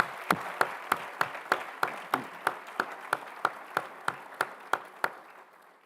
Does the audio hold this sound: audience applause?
yes